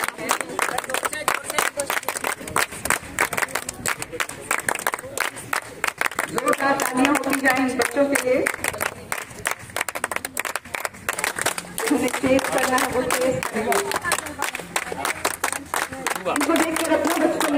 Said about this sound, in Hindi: तालियों की गड़गड़ाहट हम मंच पर आ रहे हैं।